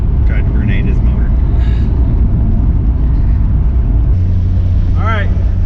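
Toyota Supra engine on a low-boost pull, loud continuous engine and exhaust roar with a rising rev sweep near the end, with speech over it.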